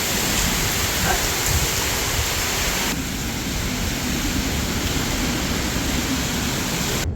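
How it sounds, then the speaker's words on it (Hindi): Heavy, driving rain pours down in a dense, steady roar that fills the whole clip, loud and close, with no voices. "इतनी भयंकर बारिश लगी"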